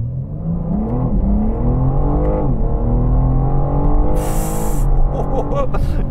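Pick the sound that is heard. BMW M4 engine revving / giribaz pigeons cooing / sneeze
BMW M4 engine revving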